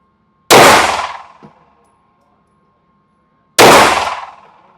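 Two Springfield Echelon pistol shots land on a steel target at an outdoor range, each a sharp, loud crack with a long, ringing metallic clang that decays over about a second, spaced a few seconds apart.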